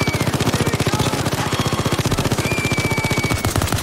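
An automated sentry gun firing in the heist shooter Payday 2: a long, unbroken stream of rapid, evenly spaced shots, loud and close throughout, with faint background game noise and no talking.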